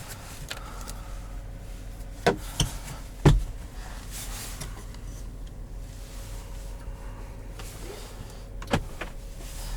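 Inside a 2021 Chevrolet Tahoe LT, the panoramic sunroof motor runs with a faint steady electric whir over cabin hum. A few sharp clicks and knocks come from the controls, and no one speaks.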